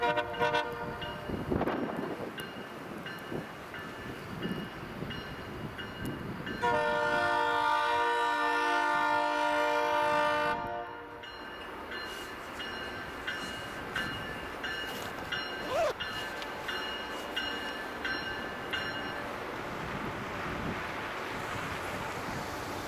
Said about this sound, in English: let's watch as it crosses the Highway 20 railroad crossing, grinding the rails